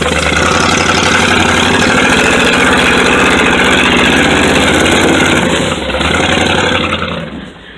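A K5 Blazer's engine labors loudly and steadily as the truck climbs a big hill on a trail, its low drone holding constant before easing off near the end, with the automatic transmission staying in gear.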